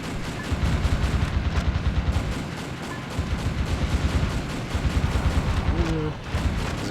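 Rapid turret gunfire from a tower in Metal Wolf Chaos, a dense rattling stream of shots with booming low end running steadily for several seconds, loud and continuous amid other battle noise.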